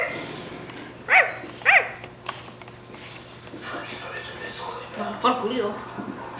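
One-month-old puppy giving two short, high yips close by, then a third brief cluster of small barks a few seconds later, over a quiet room hum.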